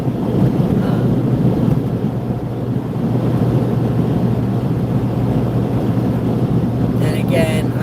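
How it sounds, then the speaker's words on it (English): Strong gusty wind buffeting a car driving at highway speed near 70 mph, a loud continuous roar and rumble of wind and road noise filling the cabin throughout. "it is definitely crazy out here with this wind"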